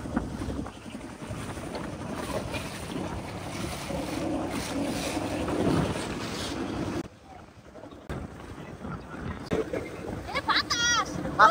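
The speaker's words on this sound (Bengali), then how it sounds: "বাতাস অনেক।" Strong wind buffets the microphone on a moving boat over water, a rough continuous roar with a brief lull, while people talk throughout.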